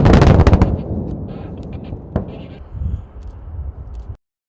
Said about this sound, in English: Commence detonation.